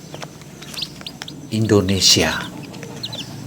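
Young chicks kept as pets give faint, high, scattered peeps, partly buried under a person speaking in the middle of the stretch.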